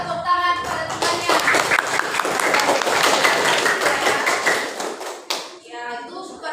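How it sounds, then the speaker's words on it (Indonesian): Classroom of students clapping for a classmate, a short burst of many hands tapping together between a teacher's spoken remarks at the start and end. "Beri tepuk tangan pada temannya."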